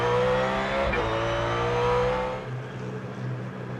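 Trans Am race cars race at Cleveland in 2003, their loud engines roaring and revving close by as they pass, then fade into a lower drone.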